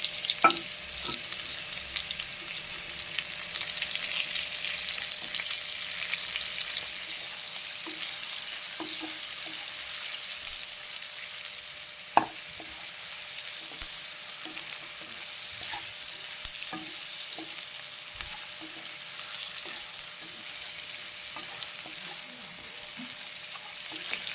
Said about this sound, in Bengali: এবার আলুর মধ্যে আমি পেঁয়াজগুলো ভাজতে দিয়ে দেবো